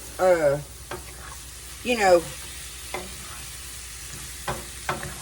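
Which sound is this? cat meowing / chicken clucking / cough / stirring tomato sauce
stirring tomato sauce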